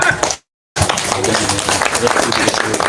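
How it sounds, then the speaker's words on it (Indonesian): An audience at an outdoor campus discussion breaks into applause, a thick, steady wash of many hands clapping close by, with a brief silent gap near the start. "Tepuk tangan lah."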